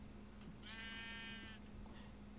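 A sheep in Minecraft gives a single wavering bleat lasting about a second, heard clearly over a quiet game background with a low steady hum.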